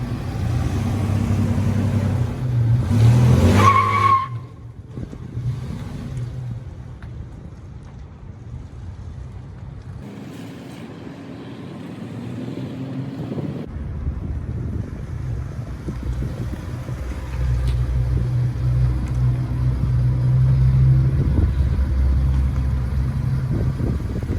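A 2002 third-generation Toyota 4Runner driving over rough ground in urban off-roading, a steady engine and road rumble with wind buffeting, rising and falling as the truck moves, heard from inside the cabin.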